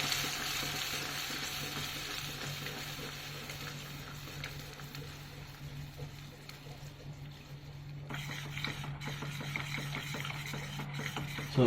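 Milk being stirred continuously into melted ghee in a pan for milk cake: a steady soft swishing and scraping with a low hum beneath, close and gentle, growing slightly busier toward the end, no voices.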